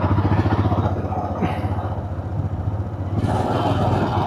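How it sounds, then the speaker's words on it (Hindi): A Kawasaki Versys 300 motorcycle rumbles with a steady low engine throb on a Himalayan mountain ride toward Kalpa, close and fairly loud, with a brief clatter and a mix of road noise. "ये कावासाकी वर्सेस 300 है शायद। अच्छी बाइक है यार"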